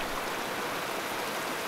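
River water flowing steadily in the Cache la Poudre River, darkened with ash and debris runoff from the High Park Fire, a close, constant rushing wash with no voices.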